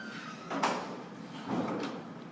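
A door in need of oiling creaks as it moves, two short squeaky scrapes about a second apart, moderately close against a quiet room.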